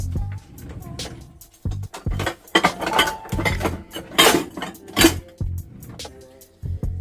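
A glass bowl is pulled out amid clattering dishes and cutlery in a kitchen, giving a busy series of sharp clinks and knocks of varying loudness that are close to the microphone.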